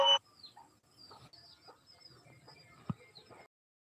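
Chickens in a Tamil garden cluck and chirp softly at a distance in a quiet setting, with scattered faint calls and one brief louder knock near the end.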